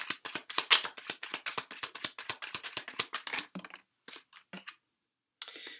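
Tarot cards shuffled by hand, a quick rapid riffle of crisp card slaps for several seconds, then a few scattered softer flicks and a brief final shuffle, close and clear.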